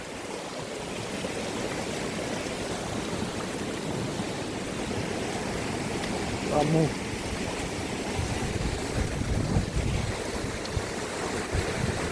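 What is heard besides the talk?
floodwater rushing strongly after cyclone Montha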